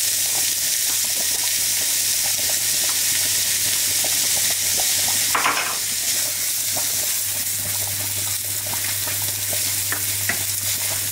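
Chopped onion frying in a pan gives a steady, dense sizzle throughout, with occasional soft stirring scrapes and crackles close by.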